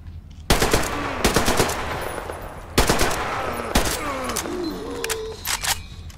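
Rapid automatic gunfire from the video game Metro Exodus, several loud bursts of machine-gun fire with sharp cracks and short gaps between volleys, heard close and without talking.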